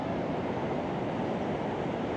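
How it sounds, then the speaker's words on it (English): Pacific Ocean surf near a jetty on the Washington coast gives a steady, faint, broadband wash of breaking waves, continuous and distant, with light wind and no voices. "Listen to those waves."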